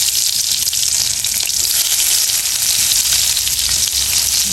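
Chopped garlic hits hot oil and fries with a loud, continuous crackling sizzle that stays even and close the whole time.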